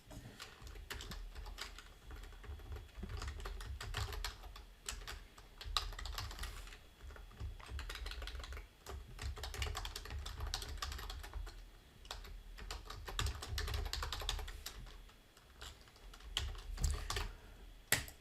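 Steady, fast typing on a computer keyboard while writing text in a Shopware 6.5 administration module, a dense close clatter of keys in bursts with brief pauses, no talking.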